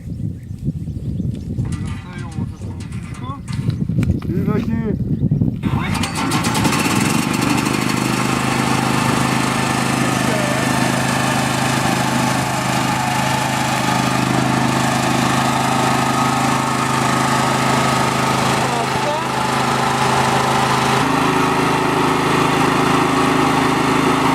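A small generator engine fires up after some fumbling and then runs steadily with a loud, constant drone, with a voice heard near the start.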